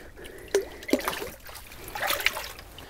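A lake trout of about 27 or 28 inches, caught jigging through first ice on Cold Lake, is let go with a few close splashes and trickles of water.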